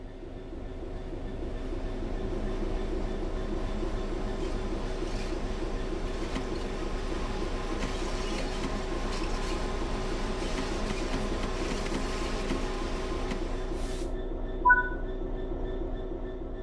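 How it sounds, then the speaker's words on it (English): Train in Train Sim World 3 rolling steadily with continuous rumbling wheel and rail noise, close and sustained throughout, ending with a short hiss near the finish as it comes to a complete stop. "Bring this train to a complete stop by holding the brake control in the apply state"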